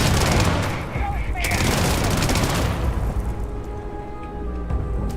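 Heavy overlapping gunfire in a Starfield deathmatch mod, loud dense bursts at the start that thin out into quieter scattered shots and ambient hum.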